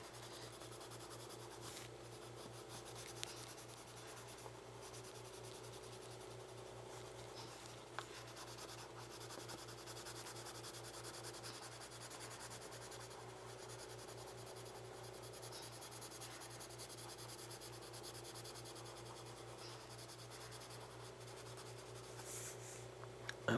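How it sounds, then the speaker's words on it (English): A colored pencil scratches and rubs across paper in soft, continuous strokes, faint and close, over a steady low hum from an oxygen compressor running nearby. "I'll use a colored pencil."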